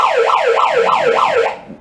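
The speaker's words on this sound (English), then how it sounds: "even have a siren if you want to hear that too" Wailing siren from a small toy-style ambulance vehicle, rising and falling in steady repeated cycles, loud and close, alone without talk before fading at the end.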